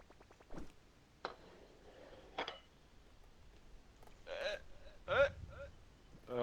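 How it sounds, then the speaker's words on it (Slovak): Several short, abrupt throat bursts, like a burp among hiccup-like gulps, sound close by and spaced irregularly, with faint voices and quiet room noise between them. "Čo si grgol, či čo to bolo?"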